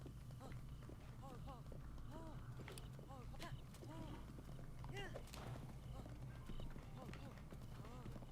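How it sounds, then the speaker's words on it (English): Horse hooves clip-clopping at a run with occasional whinnies in Zelda Breath of the Wild, a steady fast rhythm of hoofbeats under continuous talk. "It's a good idea to try to rapidly soothe your horse"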